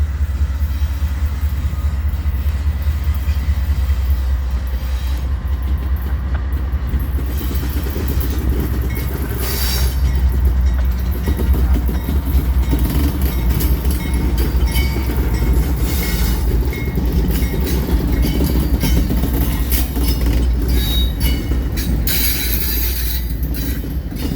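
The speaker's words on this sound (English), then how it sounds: "I would catch CSX EO40 rolling past Vine Street in Decatur, Alabama with a duo of newly rebuilt CSX CM44ACs leading CW44AC CSXT 5116." A CSX freight train passes Vine Street in Decatur, Alabama, led by two newly rebuilt CSX CM44AC locomotives ahead of CW44AC 5116. It gives a loud, continuous rumble and engine drone, with wheel clatter and a faint squeal as the cars roll by.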